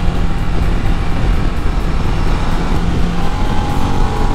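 A Ducati DesertX adventure motorcycle rides along a road, its engine a steady, dense roar blended with heavy wind rush, loud and constant throughout without any pause.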